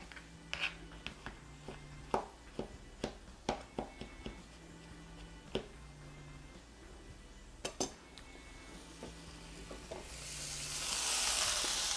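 Diced vegetables sweat in a pan with a soft, low sizzle, broken by a series of sharp utensil clinks against the pan, and the hiss swells louder toward the end.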